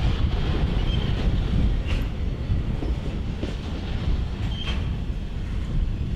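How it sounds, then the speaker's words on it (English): A graffiti-covered freight train hauling a long string of hopper cars rolls past in northeast Alabama, producing a steady heavy rumble with rhythmic wheel clatter and faint metallic squeals. "And as you can see, it's pulling a lot of hoppers again."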